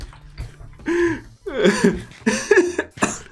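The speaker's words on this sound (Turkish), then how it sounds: "Gülmekten öksürdüm ya" A few harsh coughs close up, bursting out in uneven fits with short pauses between, and no talking.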